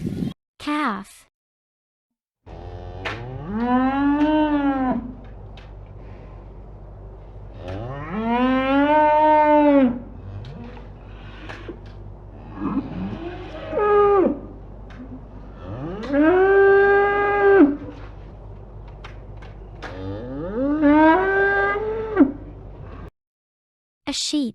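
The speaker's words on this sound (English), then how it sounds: "calf," A calf moos in about five drawn-out, rising-and-falling calls spaced through the stretch, loud and close over a steady low hum, with short quiet gaps at the start and end.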